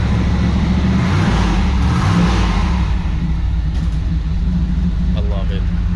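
An old small block Chevy V8 running with a loud, steady low rumble throughout, without exhaust fitted, with people talking over it.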